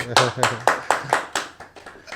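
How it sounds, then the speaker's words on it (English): Scattered clapping welcomes a groomsman named Nick, about eight distinct claps in an uneven rhythm from a small group rather than a full crowd, with faint low voice tones underneath. "Give a applause for Nick"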